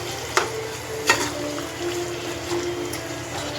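Chicken stirred in a hot pan during home cooking in a Konkani kitchen, a steady close sizzle with a few sharp scraping stirs of the spoon, no talking.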